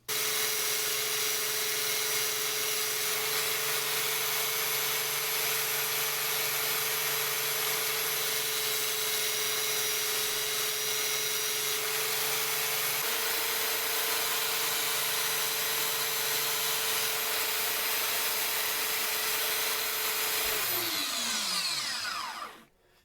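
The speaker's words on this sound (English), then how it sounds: "belt sander up in the vise here, and I'm just going to use it" A belt sander clamped in a vise shaping the bevel of a drywall hammer: a loud, steady high whine with abrasive grinding running continuously for about twenty seconds, then the motor spins down to a stop.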